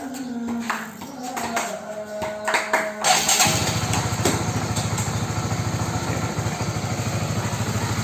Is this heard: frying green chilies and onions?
no